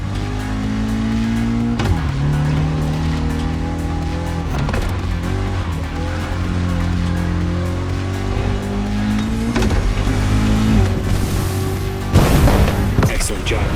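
A Toyota GR86 races in The Crew Motorfest, its engine roaring continuously with rising and falling revs and gear shifts, loud and close, ending in a harsh burst of noise.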